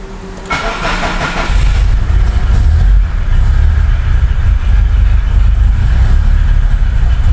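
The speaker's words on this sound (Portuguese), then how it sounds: "Eu vou funcionar um pouco o carro para vocês verem aí" A turbocharged 1993 Volkswagen Santana making over 400 hp starts with a brief rattle, then settles into a loud, steady, deep engine rumble close by.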